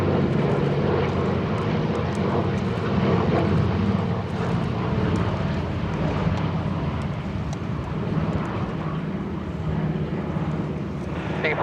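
A Douglas C-47 propeller aircraft flies past at an air show, its piston engines giving a loud, steady, rumbling drone throughout with no voices.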